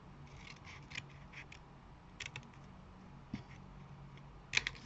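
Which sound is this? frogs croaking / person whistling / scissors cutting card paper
scissors cutting card paper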